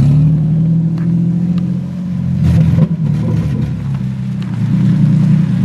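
A car with a VQ35DE engine, running without headers, spins celebration donuts: a loud, continuous low engine rumble that swells and dips as the revs change, close by and without talk.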